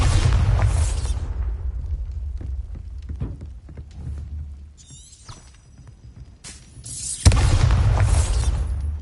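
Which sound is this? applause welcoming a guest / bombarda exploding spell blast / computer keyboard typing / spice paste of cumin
bombarda exploding spell blast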